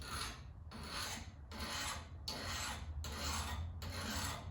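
A knife is drawn across the coarse side of a sharpening stone in six regular rasping strokes, each a gritty scrape with a short gap between, close and clear with no talking.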